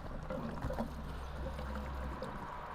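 Fuel pours steadily into the tank of an old Fiat 126, a faint continuous trickling and gurgling stream heard close without talk.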